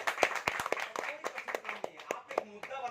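Scattered, uneven clapping from a modest audience, individual sharp hand claps rather than a dense roar, ragged and moderately faint throughout.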